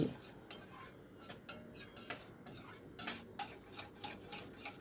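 Fish curry being stirred and mixed in a pan after water has gone in, with soft rhythmic scrapes and clinks of a spoon against the pan over a low background hiss, fairly quiet.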